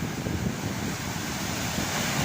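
Strong rushing water pouring over rocks at a fishing spot, a dense, loud, steady roar close to the microphone with no pauses.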